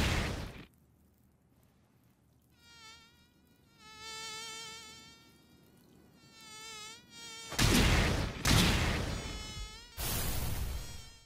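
In an anime scene, a mosquito whines in a high, wavering buzz that comes and goes over several seconds, followed by a few loud slapping bursts.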